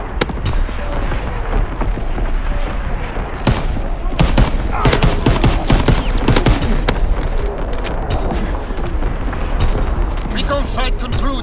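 Heavy artillery fire from a battery in the World War II shooter Call of Duty WWII, with booming blasts and rapid bursts of gunfire rolling continuously and loudly throughout, under occasional radio-style voice talk.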